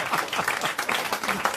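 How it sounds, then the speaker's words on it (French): A French television studio audience clapping, a dense, fairly close burst of applause that fluctuates slightly in intensity throughout. "Et vous applaudissez, bande de connards."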